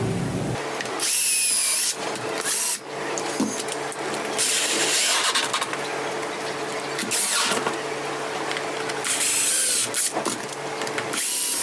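Wood routed out for a guitar frame, loud bursts of high whining power-tool noise starting and stopping several times, close up, with no speech.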